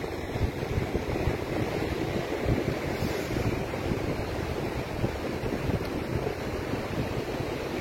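Sea surf rolls in continuously at Bhatye beach, Ratnagiri, a loud broadband roar of breaking waves mixed with wind buffeting the microphone, with no distinct voices standing out from the crowd on the shore.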